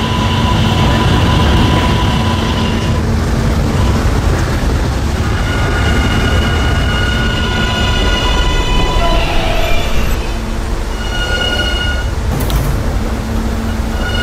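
An R143 subway train at a station, loud and close, with a continuous rumble and a steady electric motor whine that shifts in pitch as the train moves, a few brake squeals, and no speech.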